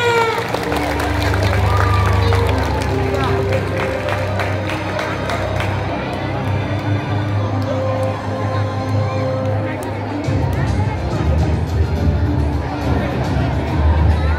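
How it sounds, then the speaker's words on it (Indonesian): Audience applause and cheering at a school science-club demonstration at a junior high in Bekasi, a steady, loud crowd clapping mixed with lively hubbub lasting throughout. "Beri tepuk tangan yang meriah."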